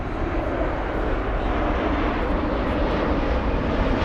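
A TUI passenger airplane at Frankfurt airport roars loudly and steadily throughout, its engine noise a broad, continuous rumble with no voices over it.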